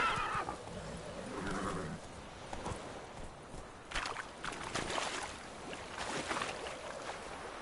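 Horse galloping and neighing in The Witcher 3 video game, a whinny followed by hoof clatter and scattered thuds and splashy bursts of movement, moderately close amid game ambience.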